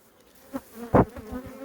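Honey bees buzz close by at an open hive frame during inspection, a steady hum with a louder swell near the middle of the short clip.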